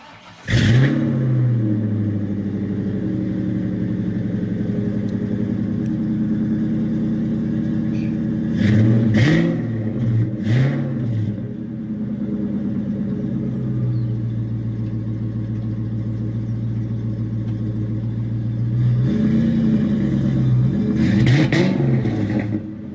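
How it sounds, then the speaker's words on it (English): A 1997 Ford Mustang GT exhaust fitted with Flowmaster mufflers, a deep steady V8 idle burble broken by three sets of sharp revs that rise and fall, loud and close. "Here's an exhaust clip. I believe these are Flowmasters."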